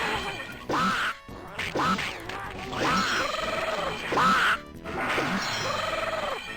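Chex Quest 2 enemies let out several loud duck-like quacking grunts in quick succession amid video game thuds and crashes, close and prominent with no talking.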